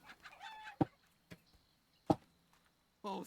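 Chickens in the video game Fable Anniversary give a few short, sharp clucks and squawks spaced apart, with a brief burst of other game sound at the end.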